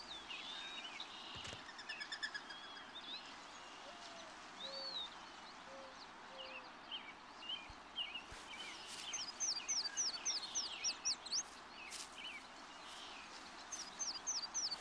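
A young male wild dove calls to attract a mate, with soft cooing mixed among other distant chirps and bird calls in a quiet outdoor setting.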